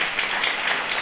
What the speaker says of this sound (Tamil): நல்லா கைத்தட்டலாமா அந்த சகோதரிக்காக?